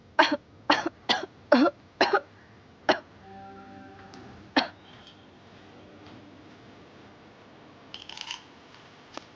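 Several sharp coughs in quick succession, then a couple more spaced out, close by, with quiet room noise between them.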